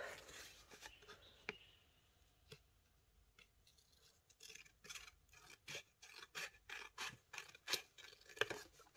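Scissors snip paper for a scrapbooking envelope, faint and close, with scattered rasping rubs at first, then a quickening run of regular crisp cuts.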